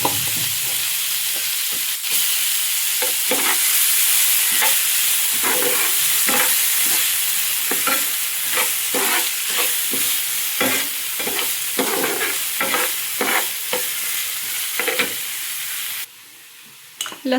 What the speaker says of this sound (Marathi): हे सगळं एकदम मिक्स करून घ्यायचं आणि लालसर होईपर्यंत भाजून घेऊया आपण